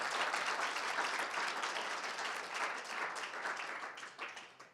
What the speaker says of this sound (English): round of applause for Maddie.